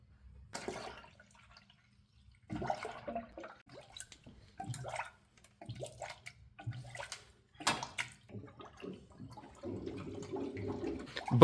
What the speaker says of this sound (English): let's put some coolant in this thing